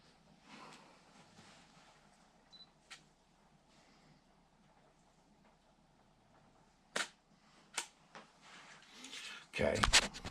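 A camera shutter fires by remote trigger while photographing a 1:64 scale Hot Wheels model, giving a couple of sharp, short clicks in a quiet room, followed by louder handling noise and faint background voice.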